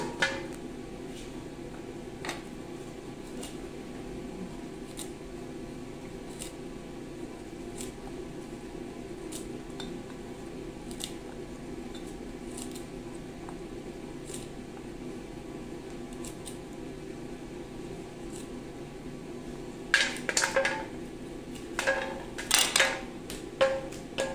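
Knife chopping string beans on a board, a steady faint background hum punctuated by sparse sharp clicks, then a quick cluster of louder chopping taps near the end, close and with no voices.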